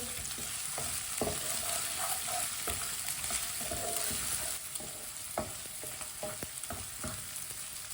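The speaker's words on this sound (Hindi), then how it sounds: "दोनों चीज़ों को 1 मिनट के लिए पका लेंगे, अदरक और लहसुन को।" Steady sizzling of ginger and garlic frying in a pan, with scattered clicks and scrapes of stirring throughout, fairly close and continuous.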